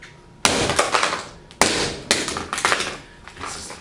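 A hammer smashing a new-in-box Canon Selphy CP990 printer: three sharp, loud impacts followed by rattling and clattering plastic debris, close and with no talking.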